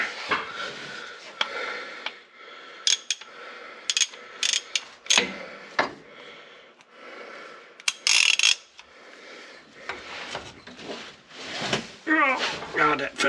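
Socket wrench ratcheting as it turns a bolt on brake work, with a series of uneven clicks and short ratchet runs between pauses, while someone talks over parts of it.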